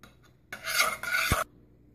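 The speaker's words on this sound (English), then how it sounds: "turn my gas on and keep it on medium and I'll keep stirring and until it melts" Gelatin being stirred in a pan over a gas stove on medium heat, a short close scraping rasp of about one second broken by a brief pause, with no talk.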